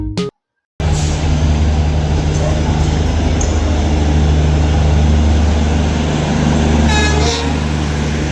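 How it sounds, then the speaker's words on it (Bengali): A train pulls in at Veraval station in Gujarat, a steady loud rumble under a sustained horn tone, with a brief gap near the start and a high whistle-like note late on. "আমাদের ট্রেন চলে এসেছে।"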